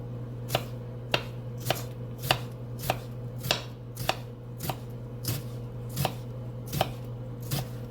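A knife chops through a big onion on a board in slow, evenly spaced strokes, about a dozen crisp near thuds roughly every half second over a steady low kitchen hum, with no talking.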